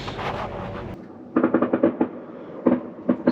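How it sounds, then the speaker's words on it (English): Fireworks bursting at the base of a bridge near an anchored boat, a quick run of sharp pops and bangs after a quieter stretch, then scattered further cracks, loud and fairly close. "there's fireworks display right at the base of the bridge by where we're anchored"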